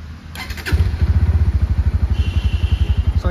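A 2024 Bajaj Pulsar NS160 motorcycle engine cranks briefly, catches, and settles into a loud, close, steady thumping idle with an even rapid pulse, alone without speech.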